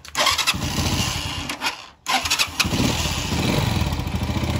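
A motorcycle engine cranks and starts up with a loud, rough mechanical roar, briefly cuts out, then runs steadily again close by, during repair of a kill switch fault where the engine won't shut off with the key.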